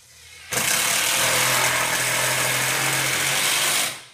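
Power tool driving the last screws into a Tomahawk bowling target, a loud steady whirring drill run starting abruptly and holding for about three seconds before winding down, no talking.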